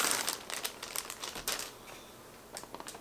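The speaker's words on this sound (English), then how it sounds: "And take Mr. Wrapper off here." Plastic wrapper pulled off a boxed sixth-scale Clint Eastwood collectible figure, giving close, loud crinkling and crackling bursts that trail off into quieter rustles.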